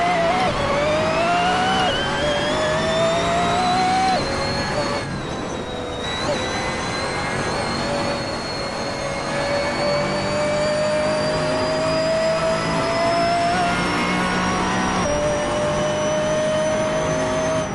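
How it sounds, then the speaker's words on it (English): A racing car engine in the Assetto Corsa video game howls with a high, steady whine that dips at gear changes and climbs again, loud and continuous throughout. "the first thing I love, and that is the sound of the engines"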